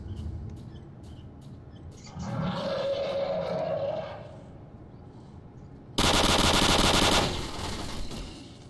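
Automatic rifle fire in a shooter video game comes in bursts: a muffled rattling stretch, a pause, then a louder, sharper burst of rapid shots, with no speech over it.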